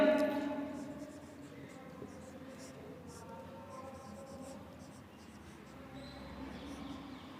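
Pen writing notes during a Class 12 biology lesson: faint, scratchy strokes in short runs against a quiet room background, with a low voice at times.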